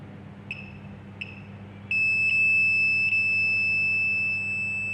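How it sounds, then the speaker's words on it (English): Two short electronic beeps, then a steady, piercing high-pitched buzzer tone from an ultrasonic obstacle sensor that sounds continuously, with faint hum in the background. "You can see buzzer being activated"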